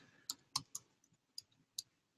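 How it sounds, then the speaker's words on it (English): A handful of sharp, quiet keyboard clicks, irregularly spaced, with short pauses between keystrokes. "having difficulty typing today."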